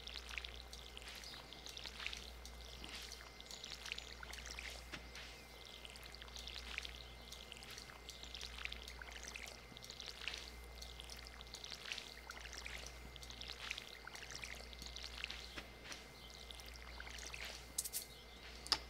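A watering can pours water in the Stardew Valley farming game, a faint, steady trickle with soft repeated splashes that carries on for a long stretch over a low background hum.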